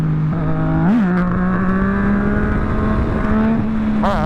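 A Yamaha MT-09 motorcycle engine revs during a wheelie, its steady loud drone rising in pitch, briefly dipping, then holding high, with wind rushing over the rider's camera throughout.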